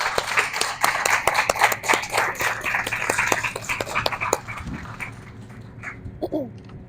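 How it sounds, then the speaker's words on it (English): Audience at a donor appreciation night applauds, a dense stretch of hand clapping that holds steady for several seconds before thinning out and tapering off, with a few stray sounds near the end. "So I'd really like to give them a nice applause along with each other here."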